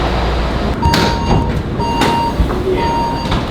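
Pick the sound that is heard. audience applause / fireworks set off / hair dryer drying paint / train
train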